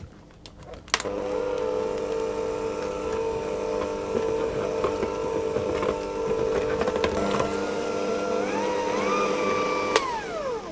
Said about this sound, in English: just mix it on slow until it's combined